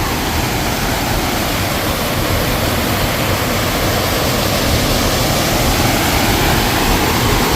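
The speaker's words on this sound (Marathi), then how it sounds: "महानगरपालिकेचं पाकणी येथील हे जलशुद्धीकरण केंद्र आहे" Water rushing at the Pakni water treatment plant in Solapur, fed by pipeline from Ujani dam, a loud, dense, unbroken roar of flowing water with no pauses.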